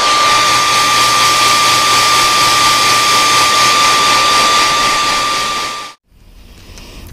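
A heat gun heat-sets paint on a handmade fishing lure. It gives a loud, steady blowing roar with a faint whine for about six seconds, then winds down to quiet.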